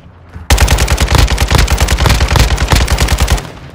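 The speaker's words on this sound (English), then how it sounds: "I'm taking fire" Loud, rapid automatic gunfire in Call of Duty DMZ, one sustained burst of closely spaced shots lasting about three seconds, close and alone, ending abruptly.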